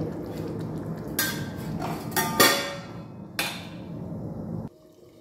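A metal lid clanks onto a pot of aloo dum on the stove, several short clattering knocks over a low cooking hiss, ending in near silence.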